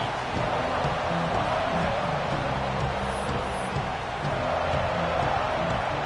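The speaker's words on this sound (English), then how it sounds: "This crowd ready to make its presence known." A college football stadium crowd roars in a steady, dense wash of noise throughout, with a broadcast commentator talking over it.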